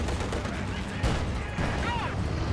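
Steady gunfire rattling against a tank in a Company of Heroes 2 battle on the Vielsalm map, a dense continuous barrage of shots and impacts under battlefield noise, with a voice faintly present.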